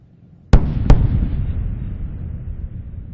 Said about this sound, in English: Those sonic booms announcing